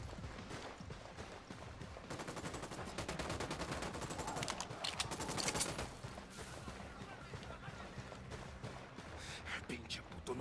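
Gunfire in the Ghost Recon Wildlands video game, with rapid automatic bursts and overlapping shots rattling loudly over several seconds, while voices and other game sounds carry on underneath.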